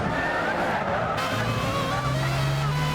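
Racing game cars at Motegi, a GT300 car and car 24 running close, with steady engine drone and a brief tyre scrub as they touch, continuous and fairly loud with no speech.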